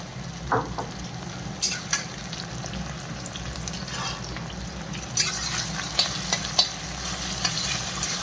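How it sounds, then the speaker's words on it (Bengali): A ground paste of cumin, chili, ginger and garlic hits a hot oiled pan for a home-style fish and eggplant curry, giving a steady close sizzle and frying hiss with a few stirring scrapes and clinks. "এই যে পিষিয়ে রেখেছিলাম মশলাটা, জিরে মরিচ আর আদা রসুন এটা দিয়ে দিলাম"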